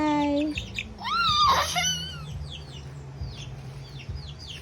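A pet chicken gives soft, scattered clucks up close while a small child babbles and giggles nearby.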